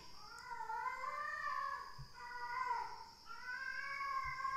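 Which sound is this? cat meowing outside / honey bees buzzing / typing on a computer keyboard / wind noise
cat meowing outside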